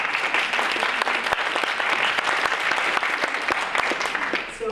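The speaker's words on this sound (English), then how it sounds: "Round of applause." Audience applause at an eating disorders science presentation, a steady dense clapping from a full room lasting several seconds and tapering slightly at the end.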